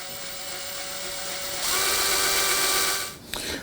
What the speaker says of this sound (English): this is where we're going to pre-drill just a little bit of a hole